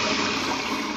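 A toilet flushing inside the video game VRChat, a short burst of rushing, gurgling water that fills the moment loudly and steadily without a break.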